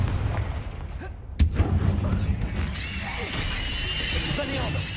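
A Confringo spell in the PlayStation 5 game Hogwarts Legacy goes off as a sharp explosive crack followed by a crashing, shattering burst and a dense layer of game sound effects that carries on through the rest of the clip.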